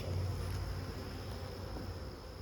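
Honeybees hum from an open hive being inspected after a killing frost, a faint, steady low buzz running without a break.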